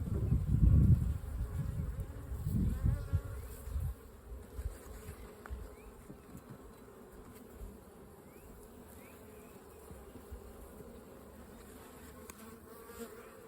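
Honeybees buzz from an open hive during a spring inspection, a loud close drone in the opening seconds that fades to a softer, steady hum of many bees.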